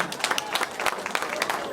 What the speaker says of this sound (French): nous applaudissons très très fort